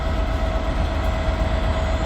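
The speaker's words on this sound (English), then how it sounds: "the new and old Transport for Wales trains next to each other." Transport for Wales train rolling through Crewe station, a steady close rumble with low mechanical drone and a constant tonal hum, no voices.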